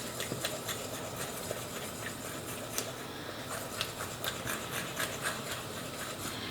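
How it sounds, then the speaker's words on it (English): Whisk beating eggs and flour together in a bowl for Thai sweetcorn fritters, a steady close scraping, rubbing rhythm with quick repeated strokes throughout, no talking. "we're going to whisk that together"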